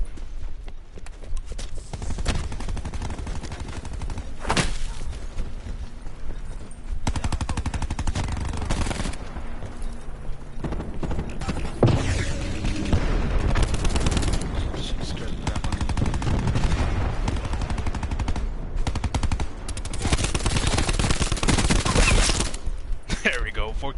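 Gunfire in Black Ops 4 Blackout ground war, loud bursts of rapid automatic fire and single shots throughout, dense and close, with a player talking over the shooting.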